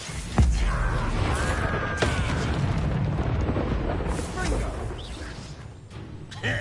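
A Confringo blasting spell detonates in a video game, with loud booming, rumbling blasts and crackling bursts running throughout while a voice speaks over the explosions.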